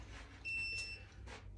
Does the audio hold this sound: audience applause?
no